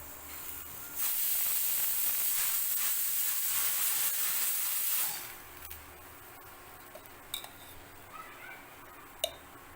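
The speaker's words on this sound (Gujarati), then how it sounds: "તમે સાંભળી શકતા હશો આપણી કુકરની સીટી થવા આવી છે" A pressure cooker on a medium gas flame lets out a loud, steady hiss of escaping steam for several seconds, then it cuts off, leaving quiet kitchen background with a few faint clicks and ticks.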